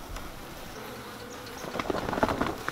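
Honeybees buzzing close around a beekeeper working an open hive, a steady insect drone that swells louder in the second half.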